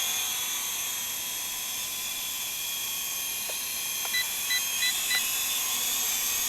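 WLToys Q323B toy quadcopter flying outdoors in a breeze, a steady high-pitched electric whine of small rotors held at constant level, with a few short electronic beeps near the end.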